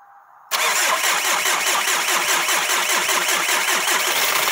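A Volkswagen Golf 4 engine cranks over and catches after a short pause, then runs steadily at a loud, close idle with a continuous rhythmic pulsing and no voices.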